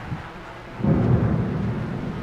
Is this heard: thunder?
yes